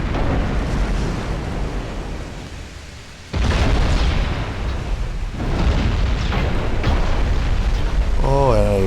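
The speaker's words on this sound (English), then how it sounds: "And we already have our first hit. Somewhere amongst the first salvo." Heavy naval gunfire salvos boom out during a dreadnought-era sea battle in Ultimate Admiral: Dreadnoughts, with a steady roar of ocean and engine noise. Two loud, rumbling blasts hit about two seconds apart, and a short tonal game chime sounds at the end.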